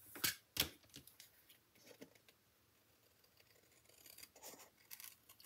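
Scissors trimming the ends of a paper note card, made with vellum and cardstock, in a few quiet crisp snips near the start and a softer run of cuts toward the end, with no talking.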